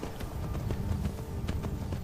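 Horse hooves gallop in the video game Skyrim, a quick, steady run of close, muffled thuds repeating several times under a low ambient rumble, with no talk.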